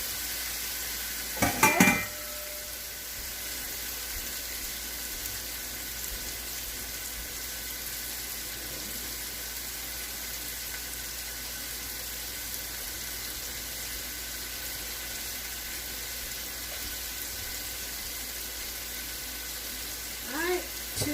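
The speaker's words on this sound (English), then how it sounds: "we're going to add in our onions and mushrooms" Onions and mushrooms sizzle in a pan with a faint, steady frying hiss, broken by a brief clatter near the start and another near the end.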